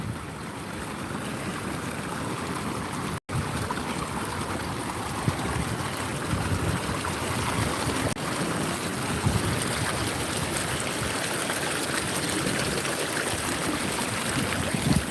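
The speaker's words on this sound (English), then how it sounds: "You can still hear the water. It's the waves." Ocean waves wash along a beach in a continuous, fairly loud broadband rush of surf and trickling water, steady from start to finish with no voices.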